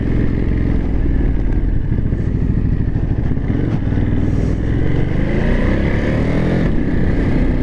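A 2023 Ducati Monster SP motorcycle ridden in sport mode on brand-new tires, its engine droning loud and steady throughout, with rumbling wind and road noise and no talking.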